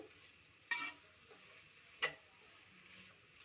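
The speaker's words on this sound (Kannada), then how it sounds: "ನೀಟಾಗಿ ಮಿಕ್ಸ್ ಮಾಡ್ಕೊಳ್ಬೇಕು" Potato curry for poori and aloo saagu is mixed in a pan. A faint background sizzle is broken by two sharp scrapes of a spoon against the pan, with no talk.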